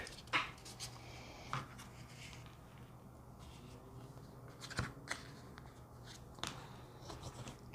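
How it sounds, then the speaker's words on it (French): Cardboard is folded and creased by hand into a grid for a surprise box, with several sharp crisp snaps and softer rustling scrapes over a faint steady hum, close and quiet, without talking. "je refais mon pli ici, qui s'en va vers le milieu"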